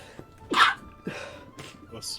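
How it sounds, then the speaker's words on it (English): A single sharp sneeze bursts out amid a few soft breaths and small vocal sounds, close and moderately loud. "About to sneeze."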